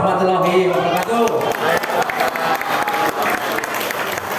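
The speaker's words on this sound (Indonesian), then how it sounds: "Berikan tepuk tangan yang lebih meriah lagi" An audience claps at the 12th anniversary celebration of DPC API Banyumas. The applause is loud, dense and sustained, and voices carry over it throughout.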